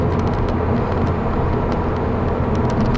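A 2010 Volkswagen GTI with a six-speed manual drives at night, its engine a steady low drone blended with road rumble inside the cabin, constant and unbroken.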